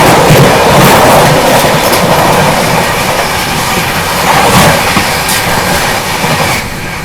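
Paschim Express on the Mumbai–Amritsar run roars along at high speed, a loud continuous rush of wheels and carriage rumble with rhythmic clickety-clack from the rails, heard up close from on board.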